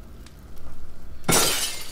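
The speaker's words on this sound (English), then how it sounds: "We have to break the glass." Glass smashes in an Amnesia custom story: a single sudden, bright shattering crash about halfway through, with a faint pulsing hum heard beforehand.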